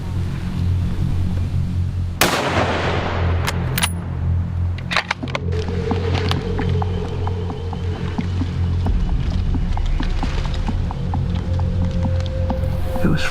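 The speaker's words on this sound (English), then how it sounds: "Shot. She's firing." Rifle shots ring out during a hunt in the Australian outdoors: a sharp, loud crack followed by a few fainter reports and pops against steady outdoor background noise.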